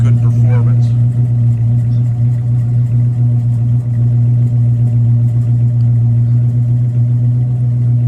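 A steady, deep engine idle rumbles continuously, close and loud, with an even low drone throughout.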